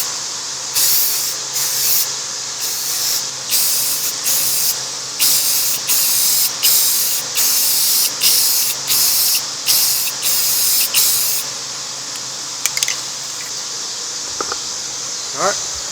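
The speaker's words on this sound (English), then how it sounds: "Using Rust-Oleum Universal Primer." Spray can of Rust-Oleum Universal Primer coating freshly welded parts on a Goldwing cafe racer build, a series of short sharp hissing bursts in quick succession, close and loud, then a few faint clinks as it stops.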